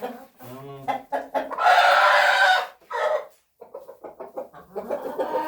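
A Light Brahma rooster crows loudly nearby, a long drawn-out call, with Light Brahma hens clucking in short bursts before and after.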